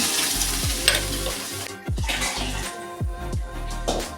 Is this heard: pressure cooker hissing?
no